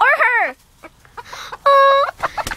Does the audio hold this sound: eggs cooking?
no